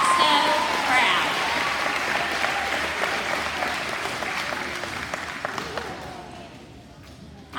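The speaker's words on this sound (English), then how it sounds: "I think we should give all of y'all a round of applause" An elementary school audience applauds fifth graders at a moving-on ceremony, with dense clapping that starts strong and gradually thins and fades toward the end.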